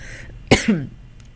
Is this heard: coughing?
yes